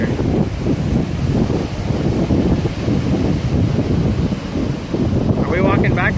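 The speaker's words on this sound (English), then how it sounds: "Pretty windy down here." Strong gusting wind buffets the microphone with a low roar at a Southern California beach, steady throughout, and a brief faint voice near the end.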